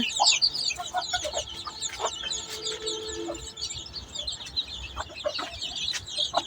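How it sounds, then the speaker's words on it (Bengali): Hens and their chicks cluck and cheep softly while eating wet feed, with overlapping short calls and high peeping close by at moderate level. "ওইখানে আরেকটা মুরগি আছে বাচ্চাওয়ালা, দেখেন খাচ্ছে কিভাবে"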